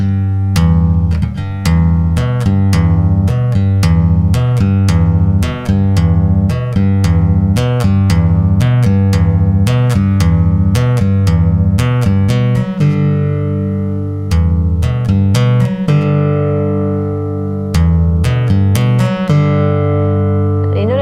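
Deep plucked bass guitar notes with quick hits and pull-offs, played in a steady rhythmic pattern, loud and close, with no talking.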